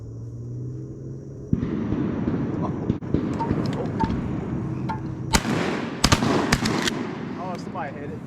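Shotgun blasts during an early-season duck hunt, several sharp booms spread over a few seconds, two or three close together near the end, with people talking around them outdoors.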